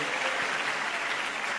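A church congregation applauds for the Lord during a preaching service, a brief burst of steady, dense clapping from many hands.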